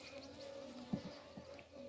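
A native kılıç honeybee buzzes at a hive in fire-damaged woodland, a soft continuous hum with a few slightly louder passes close by, quiet and brief.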